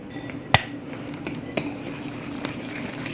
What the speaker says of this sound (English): And mix this together.